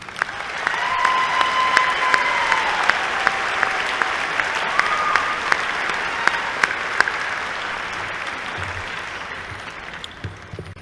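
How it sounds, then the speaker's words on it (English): Audience at a Morehead State University spring commencement ceremony applauds graduates who are standing, a loud, sustained round of clapping in a large hall lasting around ten seconds, with faint sustained tones underneath. "would you please stand and would you give them a round of applause?"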